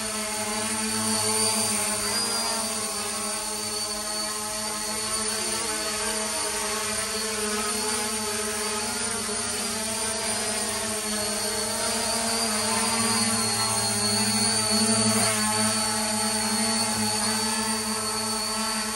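A 4K camera drone in flight gives off a continuous high-pitched motor whine with steady tonal hum, holding a constant loud level throughout, with no voices over it.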